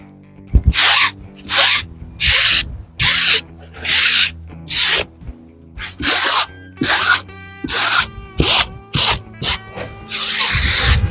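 Firm back-and-forth rubbing along the edge of a campervan interior panel, about a dozen loud, close, evenly spaced strokes, each roughly half a second long, with no talk.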